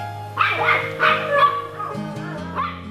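Puppies at a pet adoption event give several close, high-pitched yips and whimpering barks in quick succession. Faint background voices run underneath.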